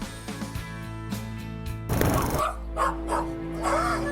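A dog in the village of Amasia, Armenia, gives several short barks and yips, close and fairly loud, with a noisier burst partway through.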